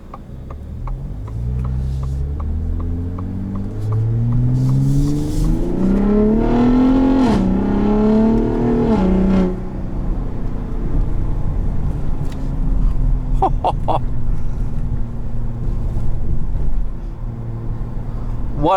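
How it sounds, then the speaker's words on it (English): A 2021 Ford F-150 Raptor's V6 engine revs up loudly, its pitch rising and falling, then drops to a burbling idle with crackling backfire pops near the end, heard close from inside the cabin. "Burbles and backfires and all the good stuff."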